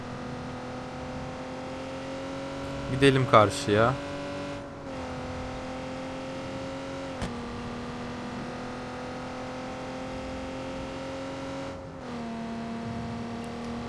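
A car engine in the video game Watch Dogs 2, set in San Francisco, holds a steady droning hum with a brief loud revving burst near the start, under someone talking.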